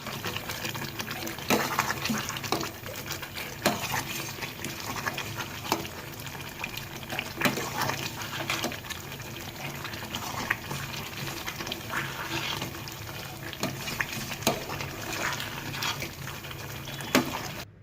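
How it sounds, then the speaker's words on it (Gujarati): Cracked wheat lapsi bubbles over a high gas flame, a continuous close gurgling and hissing with scattered pops and no voices. "થોડો ગેસ ફાસ્ટ કર્યો છે એટલે પાણી બળી જાય."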